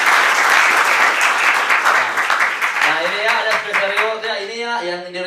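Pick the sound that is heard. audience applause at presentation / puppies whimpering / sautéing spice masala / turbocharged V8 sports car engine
audience applause at presentation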